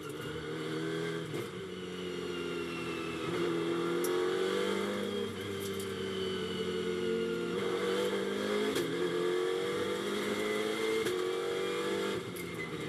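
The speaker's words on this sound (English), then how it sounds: "let's have a listen as the Mercedes then accelerates down towards turn 1" A Mercedes GT2 race car accelerates down the straight toward turn 1 at Paul Ricard, its engine note climbing through several upshifts with brief dips between gears, loud and sustained.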